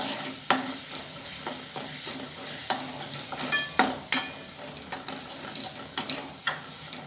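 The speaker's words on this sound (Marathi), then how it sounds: "एकजीव करून घ्यायचा मसाला सगळा. चांगलं परतवून घ्यायचं." Paneer bhurji masala is stir-fried in a pan, giving a steady soft sizzle broken by repeated scraping strokes of a spatula, close and moderately loud with no voices.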